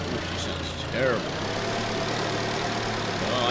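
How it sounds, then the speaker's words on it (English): A car engine with an exhaust leak idles steadily with a rough, continuous drone, near and fairly loud, while a brief voice-like sound rises over it early on. "I hear exhaust leak all over the place in this"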